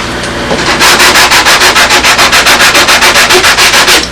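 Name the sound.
sanding a wing with a sanding block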